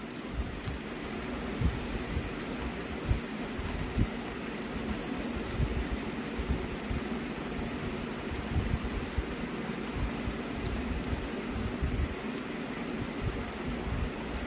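Chopped onion sizzling and frying in a pan while being stirred for Maggi noodles, a steady dense crackle with soft scraping, close and continuous with no talk.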